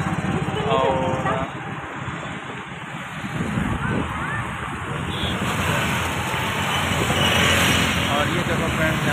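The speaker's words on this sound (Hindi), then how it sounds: "इस समय गाड़ी वाड़ी लगातार आ रही हैं जा रही हैं" Night traffic streams steadily across Shastri Bridge in Prayagraj, a continuous wash of passing vehicles blurred by heavy wind buffeting the microphone, with a voice talking over it.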